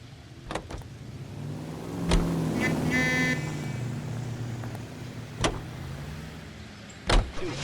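Car in the 1940s-set game L.A. Noire: steady engine drone throughout with a brief whirring mechanical sweep midway and a few sharp door-like thumps and clicks, no talk.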